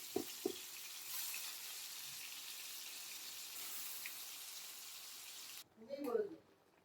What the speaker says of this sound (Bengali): সো চিকেনটা আগে ভাজতে বসিয়ে দিয়েছি, চিকেনটা এখন একটু ভাজা হোক আস্তে আস্তে তেলে।